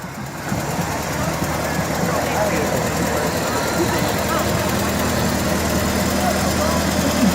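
A vintage fire department engine idles steadily through a parade, a low continuous rumble with a faint knock, heard at moderate distance beneath crowd noise and an announcer's voice.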